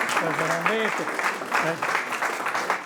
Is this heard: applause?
yes